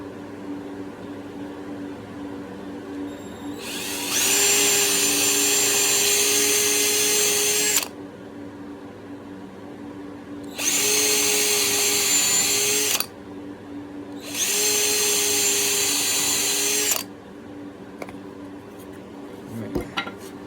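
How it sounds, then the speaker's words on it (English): A power drill bores holes while a work table is built, whining loudly in three separate bursts of roughly three to four seconds each, with quiet gaps between them and no talk. "I highly suggest you get a drill bit, drill you some holes"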